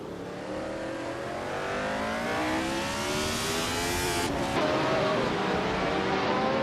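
A Fittipaldi FD04 racing car's engine screams at high revs during a race, its rising harmonic whine sustained and loud throughout, with a brief shift or passing change near the end and no voices.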